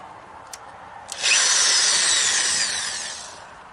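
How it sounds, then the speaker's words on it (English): A power drill bores mounting holes for an outdoor security camera: two faint clicks, then a loud sustained whine that slowly fades as the bit works through. "you're going to drill your holes."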